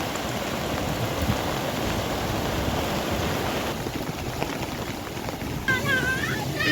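Broadband rushing water from a large waterfall flowing through a farm field, loud and steady throughout, with a voice briefly speaking near the end.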